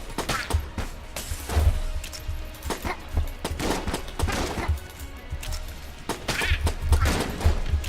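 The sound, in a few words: gunfire, video game Enter the Gungeon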